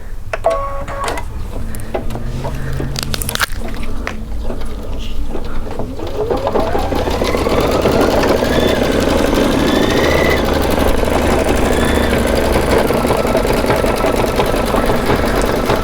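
Embroidery machine stitching a design, a loud, steady mechanical whirr with rapid needle rhythm that takes over partway through, preceded by clicks and handling noises, with someone talking over it.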